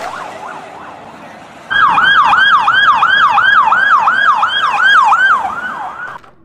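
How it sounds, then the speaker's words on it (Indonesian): A toy ambulance siren wails loudly, cycling rapidly up and down in a steady, repeating pattern, close and electronic-sounding, after a softer warble at the start. "Kita mendapatkan ambulan"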